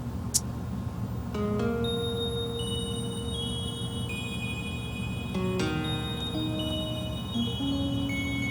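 A bell pattern plays within a music sequence with no drums, with sustained bright tones entering one after another over a steady, fairly quiet background bed.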